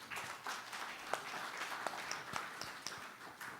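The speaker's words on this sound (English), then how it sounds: "Once again, a round of applause for all the panelists over here." Audience applause for a panel of speakers at a conference session on financing transport and trade, a steady patter of many hands at moderate level with a few sharper claps standing out.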